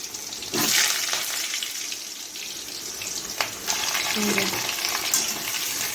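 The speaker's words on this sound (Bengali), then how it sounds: "এবার আলুগুলোকে ভালো করে ভেজে নেব।" Potatoes, pricked all over with a fork, fry in hot oil in a home kitchen, giving a steady broadband sizzle with crackling spits throughout and a few brief louder pops near the start.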